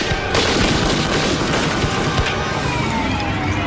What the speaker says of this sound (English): A flurry of gunshots,